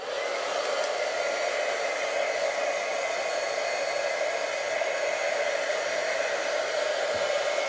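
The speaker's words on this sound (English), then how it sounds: "now that my heat gun's warm" A heat gun for embossing runs steadily for several seconds, a loud, even blowing roar with a hot-air hiss that stays constant throughout, with no voices.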